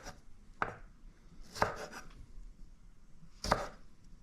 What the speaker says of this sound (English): And we're going to start chopping some tomatoes.